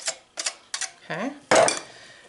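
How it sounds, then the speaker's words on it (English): A spoon stirs and scrapes through creamed corn in a metal pot, with several short clinking scrapes followed by a longer, louder scraping stroke, close and clear. "And you're going to stir this."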